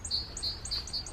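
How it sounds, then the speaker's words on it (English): Small garden birds chirp and tweet in a rapid repeating series of high notes, moderately close, over a quiet outdoor background with no talking. "Do you hear the birds singing?"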